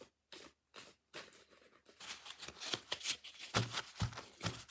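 A large tarot deck is shuffled by hand, starting with a few separate soft card slides and then a busy run of riffling and flapping cards, close and quiet, with no speech.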